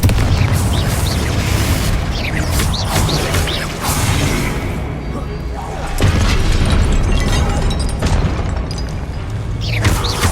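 Confringo fire-blast spell explosions in the Hogwarts Legacy game on PS5: repeated loud booms and crashing bursts in a dense, busy combat mix, with a voice talking over parts of it.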